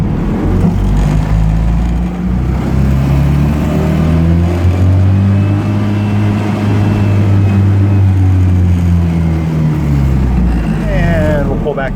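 A Heinkel Kabine microcar engine drones steadily while driving in fourth gear, pitch rising and falling as it accelerates, with a voice talking over it.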